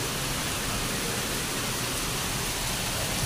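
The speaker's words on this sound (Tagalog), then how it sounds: "Super lakas ng ulan" Heavy rain pours steadily near a riverside spot, a dense, continuous hiss of downpour with no let-up and no voices.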